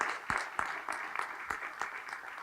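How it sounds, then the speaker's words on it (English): Scattered applause from a small audience at the reopening of the Rotary Nature Center at Lake Merritt, with uneven claps that rise and fade over a couple of seconds. "And so can we just give a huge round of applause for that?"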